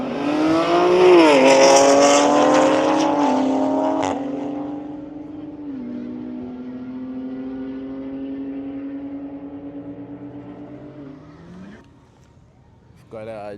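A GAT-tuned BMW M3 at a private track day, warming its tires with a loud rising rev that settles into a steady high engine drone, slowly fading and dropping in pitch as the car moves off.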